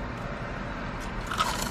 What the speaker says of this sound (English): Lots of crunch action.